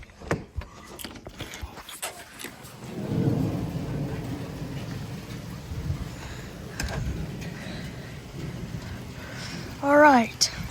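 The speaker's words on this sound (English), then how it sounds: "It's like a normal thunderstorm right now." A normal backyard thunderstorm with rain in Frisco, Texas: low thunder rumbles and swells under steady rain hiss, with a person talking faintly nearby and a brief sharp chirping sound near the end.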